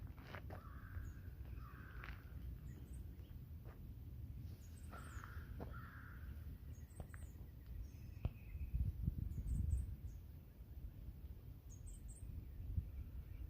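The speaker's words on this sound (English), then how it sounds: "That's a blue-gray gnatcatcher right there." A blue-gray gnatcatcher gives thin, high-pitched calls in short bursts during a quiet morning outdoors, set against low background rumble, insect hum and occasional harsher caws from another bird.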